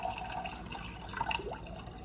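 Water pours into cups during a snowstorm power outage at home, a short close trickle and splash without talk.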